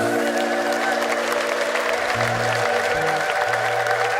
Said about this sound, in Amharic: እልልታ ይሁንለት ሃሌሉያ